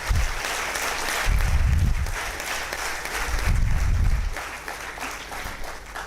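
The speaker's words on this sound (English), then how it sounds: "Give them a big round of applause." Sustained applause from an audience at a university B.Tech induction program, a broad steady wash of many hands clapping that swells in places and fades slightly toward the end.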